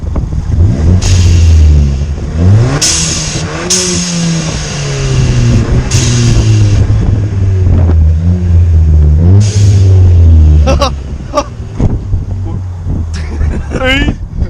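Turbocharged Ford Fiesta ST fitted with a Boomba Racing blow-off valve spacer, revving loudly up close with repeated rising engine pulls and sharp whooshing valve releases between them, while people talk and exclaim nearby.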